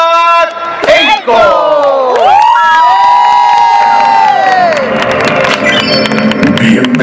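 Crowd at the Drag Maspalomas 2020 pre-gala cheering loudly, with whoops, high-pitched shouts and some clapping, close and energetic throughout, swelling into a sustained roar.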